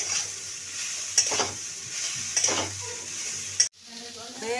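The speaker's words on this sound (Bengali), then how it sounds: "হয়ে গেছে আমার সয়াবিন ভাজা।" Soybean chunks sizzle in a pan with spatula strokes scraping at intervals, then the frying is cut off abruptly near the end, leaving a quieter kitchen background.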